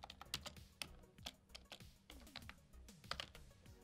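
Rapid typing on a computer keyboard, with irregular bursts of close, crisp key clicks and clacks running throughout and no talking.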